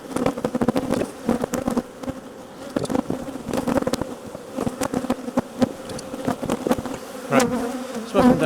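Loud, dense buzzing of many bees swarming close around an opened hive during requeening, with sharp rising and falling whines as individual bees pass near.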